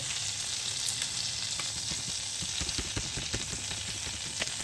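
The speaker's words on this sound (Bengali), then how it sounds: "একটু কাশ্মীরি লঙ্কা, হলুদ আর নুন দিয়ে হালকা করে জাস্ট ভেজে নেব" Kashmiri chili sizzling in hot oil and butter, a steady dense frying crackle with scattered sharper pops and some stirring, close and continuous with no talking.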